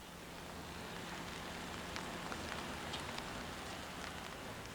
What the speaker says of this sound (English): No one likes waiting in the rain